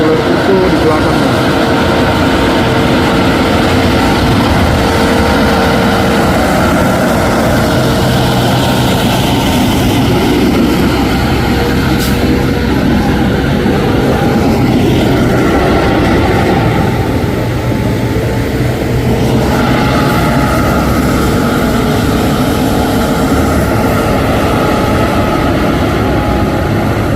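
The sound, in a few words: Fuso intercooler truck engine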